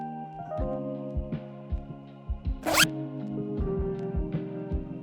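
Invisible zipper on fabric being pulled down past the zipper end, a run of short ticking rasps in an uneven rhythm over a steady background hum, with one brief louder swipe midway.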